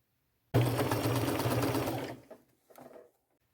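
A home sewing machine runs a zigzag stitch through a chenille robe, a steady loud mechanical whir for about a second and a half, then two short quieter bursts of stitching.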